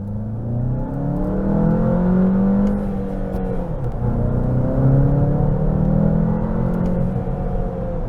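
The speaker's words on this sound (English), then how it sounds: "Engine noise from this 2-liter is actually pretty subdued." A 2022 Volkswagen Jetta GLI's 2-liter turbo engine accelerates with a steady, subdued rumble, its pitch rising and falling in smooth sweeps through the gears, heard from inside the car with no talking.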